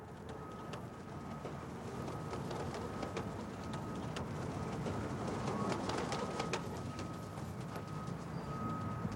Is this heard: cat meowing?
no